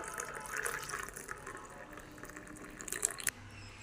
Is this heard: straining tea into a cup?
yes